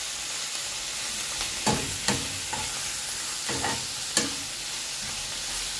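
Tuna roll filling frying in a pan, a steady sizzle with several sharp scraping stirs of the spoon at irregular intervals, close and with no voices.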